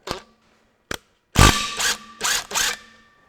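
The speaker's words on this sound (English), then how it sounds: "I'll just rattle this clutch off gently" A power tool rattles bolts off a clutch in short, loud bursts, a few brief clicks first, then three or four close buzzing runs separated by short gaps.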